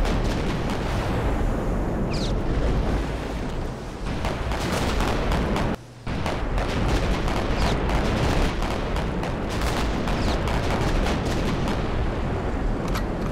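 Naval guns fire almost nonstop in the Victory At Sea Pacific video game: a dense, loud barrage of booming shots and blasts that continues with only one brief gap.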